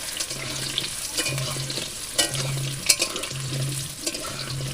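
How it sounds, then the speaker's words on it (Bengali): Potatoes frying in mustard oil in a wok over a wood fire, a steady sizzle with soft scraping and clatter of stirring, close and moderately loud, with no voices. "আলুগুলো একটু ভেজে নেবো।"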